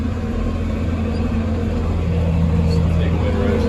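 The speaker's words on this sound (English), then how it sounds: "This is the first time I've ever raked hay with this tractor." A John Deere 4630 tractor drones steadily while raking hay in a Bahia and Bermuda field, a low constant engine rumble with someone speaking over it.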